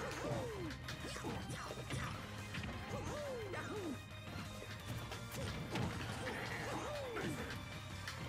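Heavy smash attack hits and crashes in Super Smash Bros. Ultimate, several punchy impacts over busy game music and effects, with a voice talking in the background.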